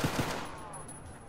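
Two quick gunshots from an M3 gun in the Roblox video game MMC Project, sharp close reports followed by a fading ringing tail.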